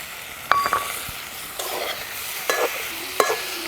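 Sliced radish and chopped tomatoes fry in a pan with a steady sizzle, while a utensil scrapes and stirs in several sharp bursts, close and fairly loud.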